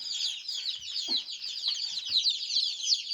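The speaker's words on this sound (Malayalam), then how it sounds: "കോഴിക്കുഞ്ഞുങ്ങളുടെ ഭയങ്കര ശബ്ദം ഉണ്ടാവും" Newly hatched chicks, a batch of naked-neck gray and black-and-white spotted chicks, chirp loudly and continuously in a dense high peeping chorus, with a few faint low knocks underneath.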